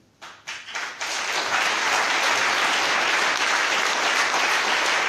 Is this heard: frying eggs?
no